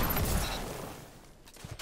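Rapid burst of pulse rifle fire in Destiny 2, a quick volley of close shots at the start that fades into a few faint mechanical clicks.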